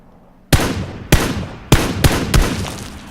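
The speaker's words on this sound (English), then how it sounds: "popping a couple more shots, hoping I could just nick him one more time" Gunfire from the video game PUBG Battlegrounds: five sharp, loud shots in an uneven sequence, each with a short decaying tail, without talk.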